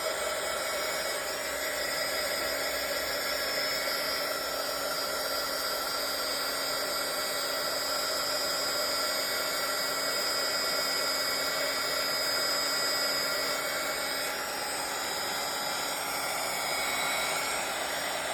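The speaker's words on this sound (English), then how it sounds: "Now I have my heat tool here." A steady, loud blowing roar of a heat tool used for card embossing runs continuously without a break, a constant broadband whoosh with a faint motor whine.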